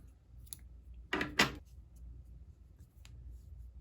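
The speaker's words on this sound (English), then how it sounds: "And then you're going to cut your yarn." Scissors cut crochet yarn in two quick, crisp snips close by, with a few faint clicks before and after in an otherwise quiet room.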